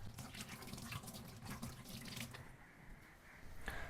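Tap water runs into a sink as hands are washed at home after cooking, a steady splashing flow that thins and quiets toward the end with a brief renewed gush.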